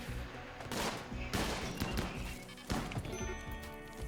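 Gunfire from turrets and colonists in the video game Rimworld, dense bursts of rapid shots and impacts layered over one another, loud and continuous with a few sharper blasts throughout.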